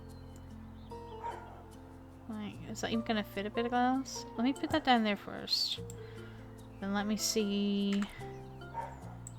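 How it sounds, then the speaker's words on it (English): A dog barks repeatedly in the background of a home, sharp yips and barks in bursts beneath a nearby voice that keeps talking through them. "I don't know if you can hear my dog's barking away in the background"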